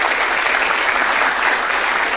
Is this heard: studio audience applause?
yes